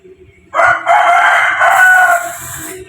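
A rooster gives one loud, close crow lasting about two seconds, rising and holding before trailing off, with only faint low background noise before and after.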